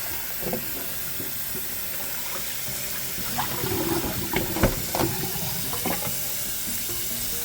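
Oxtails are rinsed under running tap water in a kitchen sink, with a continuous splashing rush broken by a few sloshes and knocks as the meat is moved about.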